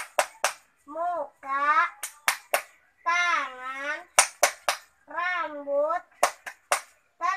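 A child performs a rhythmic hand-clap chant in a classroom, crisp claps falling in a steady pattern between sung, spoken words, close and clear.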